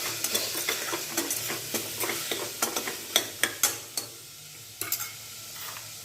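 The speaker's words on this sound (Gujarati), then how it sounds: "ગરમ મસાલો, મીઠું, પાછું બધો મસાલો સરસ મિક્સ કરી" Garam masala and salt are stirred into a cooking pot, with quick, irregular scraping and clinking strokes over a light sizzle, close by, pausing briefly before a few final stirs, with no talking.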